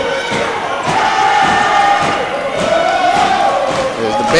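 Crowd at an EWC Tigers men's basketball GCAC Tournament game roars steadily while a pep band plays a sustained tune, dense and loud throughout with thumps from the court mixed in.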